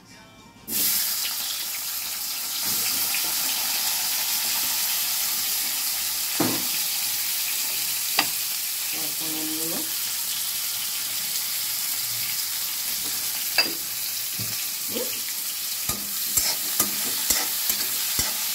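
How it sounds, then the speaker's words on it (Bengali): Steady loud sizzling of radish, green banana and potato frying together in oil, with occasional clinks and scrapes of a utensil stirring, no talking. "এগুলোকে সব একসাথে ভেজে নেবো"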